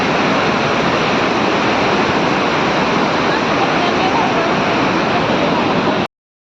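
River water roars over a dam just below where the listener stands, a loud, constant broadband rush that cuts off abruptly near the end.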